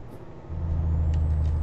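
A heavy truck brakes in Euro Truck Simulator 2, a low steady engine drone swelling in after a quiet start and holding close and loud.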